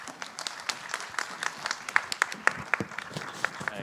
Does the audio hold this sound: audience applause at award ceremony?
yes